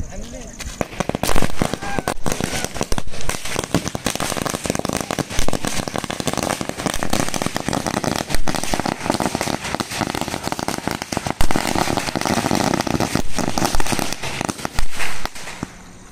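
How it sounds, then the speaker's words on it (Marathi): A long string of firecrackers bursts in a dense, rapid, unbroken crackle of sharp pops for over fifteen seconds, loud and close, at a celebration. "पेटवतोय ही फटाक्यांची माळ"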